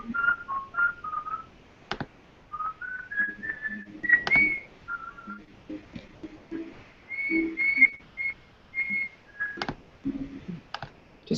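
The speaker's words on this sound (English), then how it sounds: "just whistling along" A person whistles a meandering tune in short melodic phrases, with scattered sharp clicks like keyboard typing and faint background noises between the notes.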